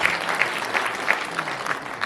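Steady applause from an audience at a Kikuyu-language gathering, dense hand claps with a few louder accents rising out of the crowd noise, continuous throughout.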